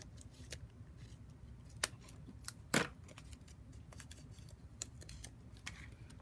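Scissors cutting a piece of dimensional adhesive for card making, with a few quiet snips and one sharper close cut over a low room hum, no talk.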